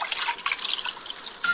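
Water poured in a cooking game, a short bright trickling and dripping splash that runs steadily for about a second and a half, fairly quiet and with no voices.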